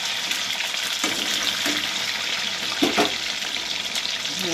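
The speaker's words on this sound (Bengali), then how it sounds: "ফাঁকা তেলে ভাজা হচ্ছে তো ভাজাটা ভালো হবে, কোটিংটা" Coated chicken pieces, toothpick-style chicken fry, frying in plenty of hot oil, giving a steady, close hiss of sizzling with a few brief bubbling spikes throughout.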